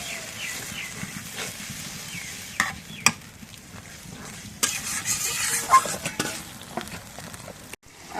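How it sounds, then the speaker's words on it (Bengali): Spice paste of ginger, garam masala, garlic and cumin being fried and stirred in a pan for mutton curry, a faint steady sizzle with occasional scraping clinks from the stirring, no one talking. "এখন মশলাটা কষানি হয়েছে"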